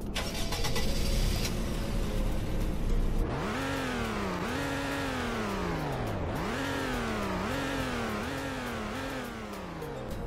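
The slowest car engine in Roblox Greenville starts, then revs up through repeated rising gear-like sweeps, a synthetic game motor tone climbing and dropping several times, fairly quiet and alone.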